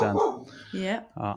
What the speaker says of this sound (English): so that's my dog now barking.